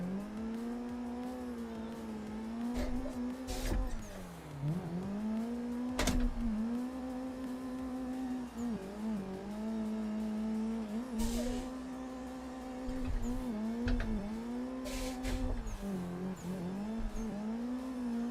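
A drift car in a racing video game, engine holding a steady high whine that dips and recovers repeatedly as the handbrake is pulled, with brief tire squeal and sharp clicks over about eighteen seconds.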